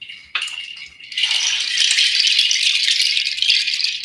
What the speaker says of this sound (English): this is a shell chime or a nut chime. So you'll hear this instrument as well.